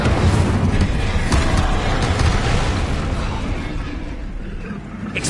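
The Incendio fire spell in Hogwarts Legacy roars with a loud, dense rush of fiery noise and low rumble that gradually fades over several seconds, with a faint voice underneath.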